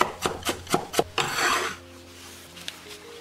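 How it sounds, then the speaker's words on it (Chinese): A knife chops rhythmically on a cutting board, mincing ginger in a kitchen: four crisp, evenly spaced strikes, then a rough scraping rasp, then quiet. "最后切成姜末。"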